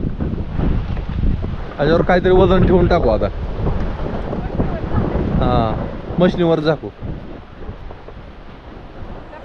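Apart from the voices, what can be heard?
wind blowing on farm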